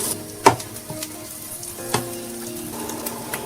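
Onions caramelizing in a pan with basil-flavored stock for a classic tomato spaghetti sauce, a soft sizzle under a few sharp knocks and scrapes of stirring, close by.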